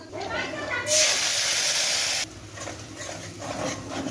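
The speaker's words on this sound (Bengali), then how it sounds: "তার তেলের ভিতরে শুকনো লঙ্কা আর কালো জিরে দিয়ে দিলাম।" Dried chillies and black cumin hitting hot oil in a pan, bursting into a loud, bright sizzle that holds for about a second before dropping to a softer crackle, with a person talking over it.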